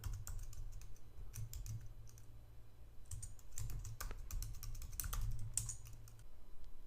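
Rapid keystrokes on a computer keyboard typing a Linux terminal command, a continuous close run of clicky taps in irregular bursts over a low steady hum, with no talking.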